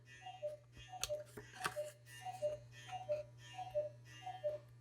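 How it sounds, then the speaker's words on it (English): A wall-hung cuckoo clock ticking steadily nearby in a quiet room, an even run of crisp paired tick-tocks under a low steady hum, with no talking. "What's my cuckoo clock?"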